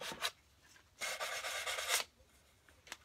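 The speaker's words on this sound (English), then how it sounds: "So we're just going to break that edge down a little bit. Doesn't take much. Sandpaper is very strong and powerful" Sandpaper rubs along the edge of a wooden kitchen box in a short rasp, then a sustained second-long scrub, with quieter scratches around it, close and alone.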